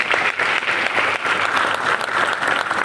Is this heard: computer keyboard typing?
no